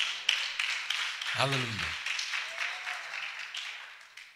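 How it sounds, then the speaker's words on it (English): A church congregation claps and applauds during a healing service, a steady wash of hand claps, with a voice briefly calling out over it. "Give God a clap."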